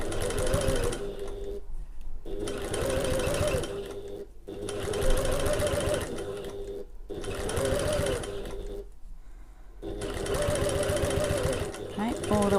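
A domestic sewing machine runs in four steady bursts, stitching a quarter-inch seam along a fold on a getaway bag, with short pauses between runs and a close, busy mechanical whir throughout.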